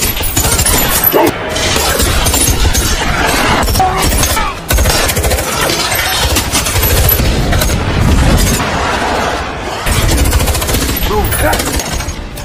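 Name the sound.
gunfire in a film scene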